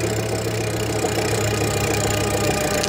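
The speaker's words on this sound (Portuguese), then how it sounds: "Você está escutando a catraca rodando aí." A homemade electric bicycle driven by a hoverboard hub motor climbs a hill on throttle alone, its freewheel ratchet ticking steadily over a continuous humming motor drone, close and even throughout.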